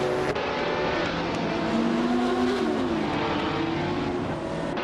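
Vintage race cars from around 1970, including a Ferrari, roar steadily in a video game race at Enna Pergusa, engine tones rising and falling as several cars run together at a constant loud level.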